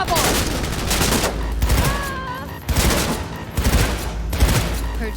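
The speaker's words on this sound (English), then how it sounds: "Heard shots." Dense gunfire in the video game Cyberpunk 2077, rapid overlapping shots in a loud continuous barrage with a brief lull midway, a faint voice briefly heard among the blasts.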